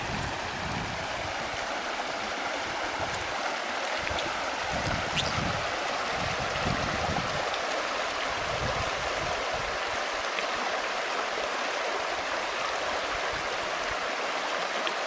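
Water rushes steadily over the many small cascades of the Gradac river gorge, a continuous broadband roar of flowing water with no voices present.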